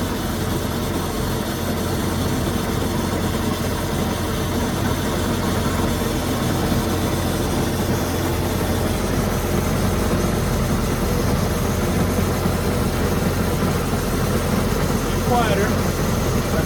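A 2008 Bayliner 185 boat engine idles steadily with a low, constant rumble and a slight misfire, running alone throughout with no talk over it.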